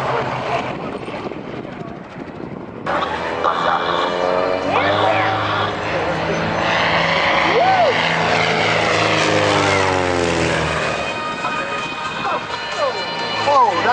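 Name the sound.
Robinson R44 helicopter flying at an airshow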